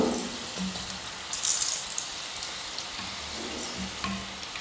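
Onion samosas made with wheat-flour dough frying in hot oil over a medium flame, a steady close bubbling sizzle with occasional soft clinks and stirs, no talking.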